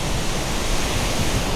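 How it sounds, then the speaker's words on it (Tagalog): A strong, steady wind lingering after Typhoon Uwan buffets the microphone in a constant loud, hissing rumble with no breaks and no voices. "Ayaw pa rin tumigil ang hangin eh."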